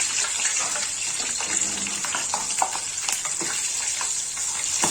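Chicken pieces fry in oil for a pepper chicken kebab, giving a continuous bright sizzle with scattered pops and crackles, moderately loud and close, with no talking.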